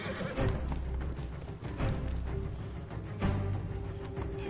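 A horse whinnies in the samurai video game Ghost of Tsushima, several neighing calls mixed with hoof clatter and busy game ambience, fairly close and steady.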